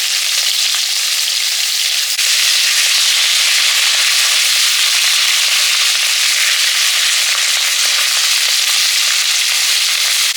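Mustard oil heats in a wok ahead of frying small freshwater fish, giving a steady, loud sizzling hiss with faint crackles that runs unbroken throughout, with no voices.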